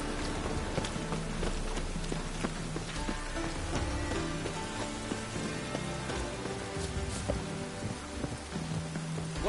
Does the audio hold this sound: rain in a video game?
yes